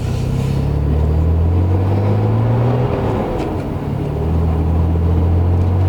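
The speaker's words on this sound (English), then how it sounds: "I still can't believe I'm driving a 33 GTR" A Nissan Skyline R33 GTR cruises gently from inside the car, its engine a loud, steady low drone with slowly shifting pitch and no voices over it.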